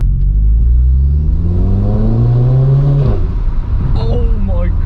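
A car fitted with a new aftermarket exhaust accelerates under turbo boost, a loud rising engine rumble and whir building steadily before easing off, with a person speaking over it near the end.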